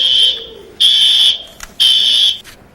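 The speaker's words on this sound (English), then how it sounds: "A fire alarm was set off late Tuesday night in one of CSU's dormitories." A fire alarm sounds in a Colorado State University dormitory, Braden Hall. It gives loud, shrill electronic tones in repeated pulses of about half a second, separated by short gaps, with no voices.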